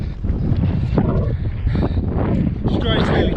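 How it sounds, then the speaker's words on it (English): Strong wind batters the microphone during an outdoor run, producing loud, gusty rumbling buffets that rise and fall across the whole moment. "the wind is horrific"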